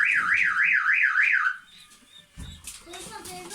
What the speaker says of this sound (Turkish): Şimdi içerinin alarmını çalıştırdılar